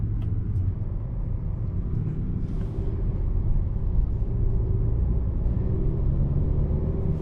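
Low, steady road rumble and engine hum come from a 2025 Acura TLX A-Spec driving at night, a constant muffled drone with little change throughout.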